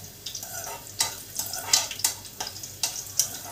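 Garlic frying in a pan while broccoli is prepared: a steady low sizzle broken by repeated bright scraping stirs, close and fairly quiet, with no talk.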